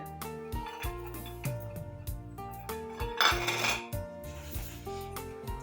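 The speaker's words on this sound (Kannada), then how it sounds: "ಈಗ ನಾನು ಇದಕ್ಕೆ ಬೆಳ್ಳುಳ್ಳಿ ಹಾಕ್ಕೊಳ್ತಾ ಇದ್ದೀನಿ ನೋಡಿ" Garlic cloves dropping into a steel mixer jar while making North Karnataka chutney powder, giving bright metallic clinks and rattles in a quick irregular series, close and clear with no talk.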